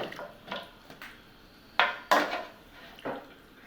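Pots, a wok and a pan clank and knock against each other in a sequence of separate hits while being washed, close by, with faint background noise.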